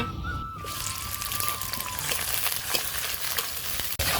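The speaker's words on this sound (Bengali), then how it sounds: "এবার পরিমাণ মতো তেল দিয়ে দেব ঝাল পেঁয়াজ আর রসুন কাটা দিয়ে দেব" Oil frying with chopped chili, onion and garlic for vegetable khichuri, a steady close sizzle with a brief whistle-like tone at the start, continuing alone without talk.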